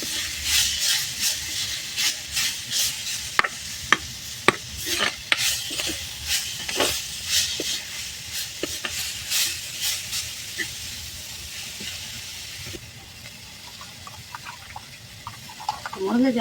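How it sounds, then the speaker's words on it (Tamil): Drumstick leaf stalks and tomatoes being sautéed in a pan for soup: soft sizzling with rhythmic stirring scrapes and taps, close and fairly quiet, with no talking. "இப்போ நச்சு வச்ச முருங்கைக்கீரை குச்சும் தக்காளி பழம் வச்சதும் போடுறேன் வதக்குறது."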